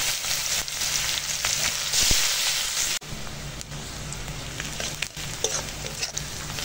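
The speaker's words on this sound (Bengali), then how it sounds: "পেঁয়াজ দিয়ে দেবো" Onions fry in hot oil with black cumin seeds, making a continuous soft sizzle with light crackling and a brief stir or clatter midway, at moderate level with no voices.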